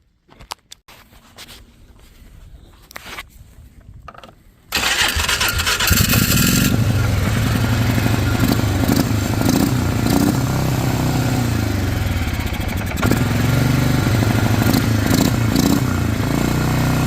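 A 2010 Polaris 400 AWD ATV in need of a carburetor; after a few seconds of quieter handling noise, its engine catches and runs steadily and loudly for the rest of the clip, close by.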